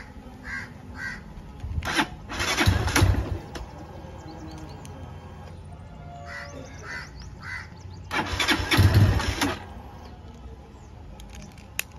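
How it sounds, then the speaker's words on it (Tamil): A motorcycle's starter turns over in two separate bursts of a few seconds each, with a quieter pause between them, close by in a quiet outdoor setting; no one speaks. "வண்டி ஸ்டார்ட் பண்ணுறேன்."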